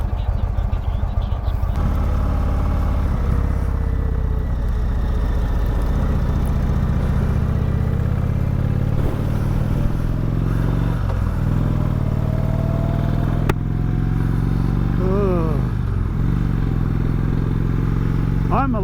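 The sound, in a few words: motorcycle engine riding on the road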